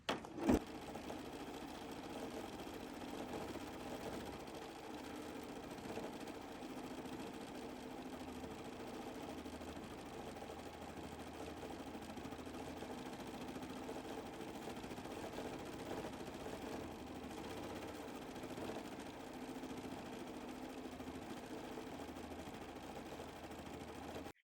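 A Bernina embroidery sewing machine stitching a back-stitch pass with a couching foot, a steady soft mechanical hum and whir that runs evenly throughout, fairly quiet, with no talking.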